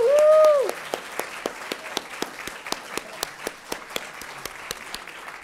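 Audience applause for the Three Minute Thesis presenters at an academic competition, opening with a brief loud whoop, then thinning into scattered, distinct claps that continue steadily for several seconds.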